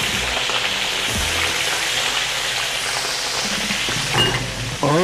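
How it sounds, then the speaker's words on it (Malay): Anchovies (ikan bilis) frying in hot oil for nasi lemak, a steady, loud close sizzle and crackle throughout, with a brief clatter near the end. "Bolehlah kita goreng kita punya ikan bilis."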